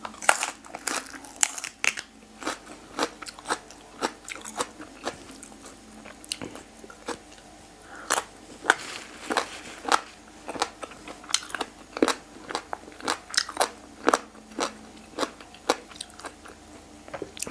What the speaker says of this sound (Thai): โหระพานะคะนี้กรอบมากนะ